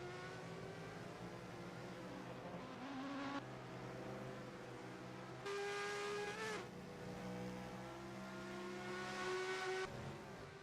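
Race car engines drone and whine steadily in a racing video game, with pitch shifting as cars accelerate and pass, loud and continuous throughout.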